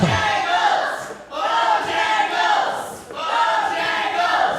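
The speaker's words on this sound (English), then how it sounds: "Crowd picks up the chant again" A wrestling show crowd chants in rhythmic unison, loud repeated phrases from many voices in three clear surges, with brief dips between each round of the chant.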